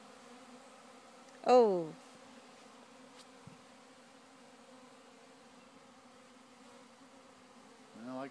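Honey bee swarm near a hive, a steady faint buzzing hum running through the whole stretch, with a brief close exclamation from a person and a few quiet handling sounds.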